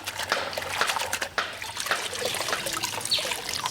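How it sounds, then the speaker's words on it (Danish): Socks are rinsed by hand in a basin of slightly dirty water in Ghana, giving continuous close sloshing and trickling with soft splashes throughout. "Og det her vand er ved at være lidt snavset, så jeg skyller"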